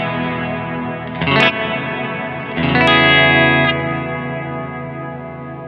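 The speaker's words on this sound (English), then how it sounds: "If you want a longer hall time, just turn the reverb time up." Overdriven electric guitar through a Fender Marine Layer reverb pedal set to a longer hall time, with two struck chords whose tails ring out in a long, smooth reverb decay.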